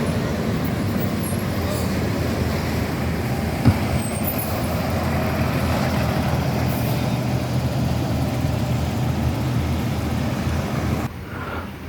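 An intercity bus engine drones in a low, steady rumble as it pulls away from a terminal in Solok, Indonesia, with a single sharp click partway through.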